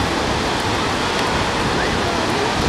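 Ocean waves wash onto a beach at Mar del Plata in a steady, loud broadband roar of surf that fills the whole stretch without pause, close and continuous.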